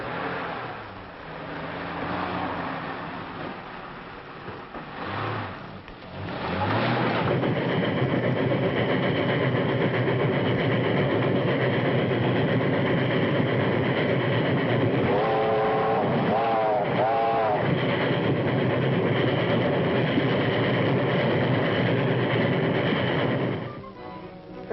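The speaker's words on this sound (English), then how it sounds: "That's the train." Steam-era passenger train running in a 1937 film, a steady rumbling engine drone with rattling that fills most of the clip. A brief whistle-like tone sounds in the middle, and a voice is heard at the start.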